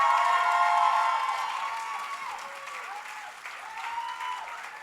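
Concert audience at the Maison Daniel Fery end-of-year show applauding a group of young performers; dense clapping with a few cheers, loudest at the start and slowly thinning over five seconds, with faint voices underneath.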